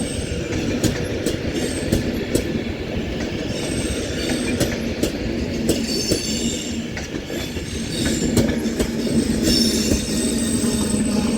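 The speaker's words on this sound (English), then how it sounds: "this Avanti West Coast Class 390 Pendolino is terminating now here at Manchester Piccadilly" Avanti West Coast Class 390 Pendolino terminating at Manchester Piccadilly on the West Coast Main Line, loud close rolling wheels with clickety-clack and squealing brakes and wheels as it slows, no voices.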